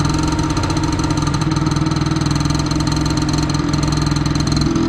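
An old Cub tractor engine runs rough on a dead cylinder, loud and close, with an uneven lumpy chugging and irregular knocking pulses throughout and no talking.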